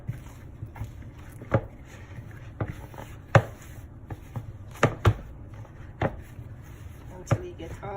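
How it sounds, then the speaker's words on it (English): Jamaican peg bread dough kneaded by hand on a surface, close soft thuds and slaps at an irregular pace, roughly one every second, with quiet scuffing between. "just knead. And you're gonna knead this for like up to 5 minutes."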